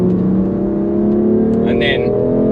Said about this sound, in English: Thanks so much, mate, for letting me drive this car and now abuse it around track a little bit